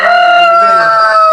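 A single loud rooster crow, close and clear, a rich harmonic call held for just over a second.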